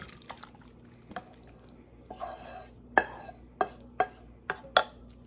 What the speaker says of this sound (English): Dump our burger mixture.